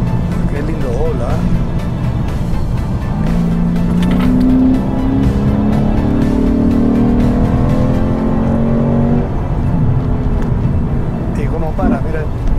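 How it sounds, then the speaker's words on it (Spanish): Lexus RC F sports car with a V8 engine, heard from inside the cabin as a loud, continuous rumbling roar that rises in pitch under acceleration, with people talking over it. "Por eso es que sentimos más fuerte el ronquido ese de V8."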